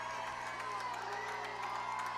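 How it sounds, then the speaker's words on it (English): A football crowd cheers for the Bears at a high school game, a faint, distant, steady roar of voices and whoops. "Bears crowd starting to get into it"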